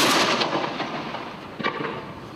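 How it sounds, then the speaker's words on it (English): A historic cannon fired at a quayside demonstration: a loud blast already decaying at the start, trailing off into a rumbling echo, with a smaller sharp crack later on. "You certainly can't recreate a cannon firing and a gun firing close by"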